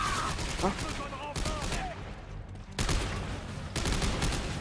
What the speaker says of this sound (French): Il y a des bastos de partout là